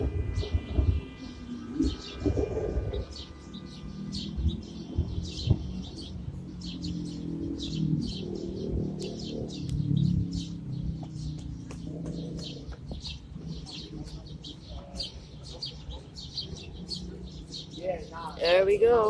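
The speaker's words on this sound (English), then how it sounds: "There we go, lots and lots and lots of birds." Many birds call loudly from a nest in an urban city, a dense chorus of chirps and coos running throughout over background city noise.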